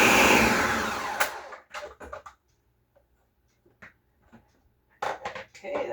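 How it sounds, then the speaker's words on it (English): A Ninja blender whirs loudly for just over a second, blending blueberries and other ingredients until smooth, then cuts off abruptly, leaving clinks and small kitchen handling sounds. "I have here a Ninja blender. Just gonna mix this up until it's smooth"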